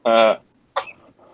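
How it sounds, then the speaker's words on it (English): A baby's sneeze, one short burst standing out near and clear just after a louder adult vocal sound, followed by faint noise. "if you heard a sneeze"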